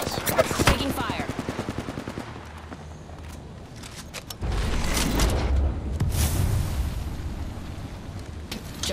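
Gunfire in the video game Apex Legends: quick bursts of rapid automatic fire early on, then a louder, heavier rumble of shots and impacts, with a voice talking faintly underneath.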